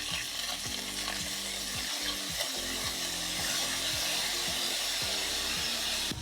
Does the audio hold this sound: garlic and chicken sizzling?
yes